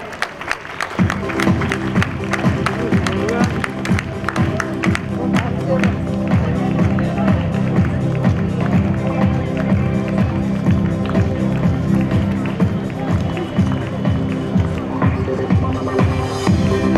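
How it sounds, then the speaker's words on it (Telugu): An audience applauding at a church feast honouring Saint Teresa of Avila, steady dense clapping from a crowd that carries on throughout, with voices mixed in. "అందరూ కూడా చప్పట్లు కొడదాం."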